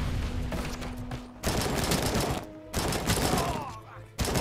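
Rapid gunfire bursts in RoboCop: Rogue City, loud and close, in several sustained volleys separated by brief pauses, with game effects mixed in.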